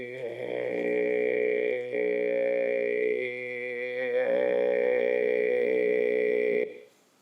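A singer holds a sustained voiced tone while switching the vestibular folds on and off, the voice alternating between a clean tone and a rough, period-doubled growl, loud and close with no other sounds.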